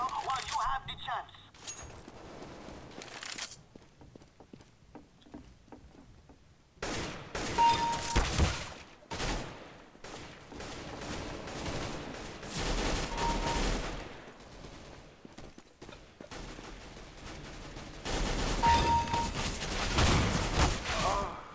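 Bursts of gunfire from the video game CSGO, played offline against bots, come in several loud rapid volleys separated by quieter stretches, with a voice talking over parts of the action.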